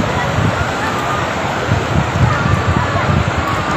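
Sea waves wash ashore at a beach resort in San Juan, Batangas, with a steady rushing roar of surf and wind buffeting the microphone throughout.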